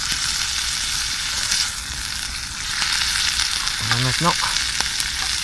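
Sauce sizzles and bubbles hard in a pan over an outdoor fire, a steady crackling hiss with a short stirring scrape, while a voice speaks briefly.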